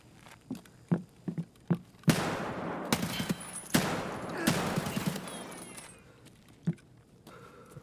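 5.56 rifle fire in Escape from Tarkov: a few sharp single shots, then two dense, loud bursts of rapid fire with trailing echo, fading into quieter scattered sounds.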